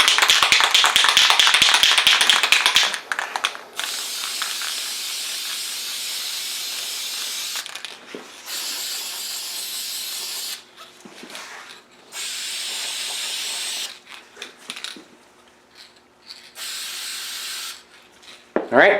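Wrinkle paint hisses from a spray can in loud, steady bursts, one long pass followed by several shorter sprays separated by brief pauses.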